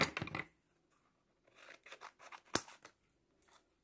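Scissors snip through folded paper in a few quick bursts of crisp cutting, with a sharp close snap partway through and softer rustling between cuts, no talking.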